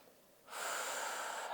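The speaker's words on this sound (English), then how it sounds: "And we're breathing" A single long, steady breath drawn during a yoga stretch, starting abruptly after a quiet moment and holding at an even, close, breathy hiss to the end, with no talking.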